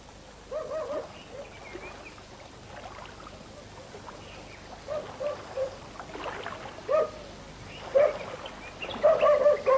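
Dogs bark in short, scattered bursts, growing louder and more frequent toward the end, heard alongside fishermen's boats in crocodile country in Sri Lanka, Indonesia or Papua New Guinea, with faint background activity.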